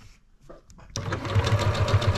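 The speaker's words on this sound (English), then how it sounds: "You just sew a seam using your 1/4 inch seam allowance." A sewing machine stitches a 1/4 inch seam on fabric for a simple braid, its motor starting after a short quiet moment and then running in a steady, close, rhythmic whir with no talk.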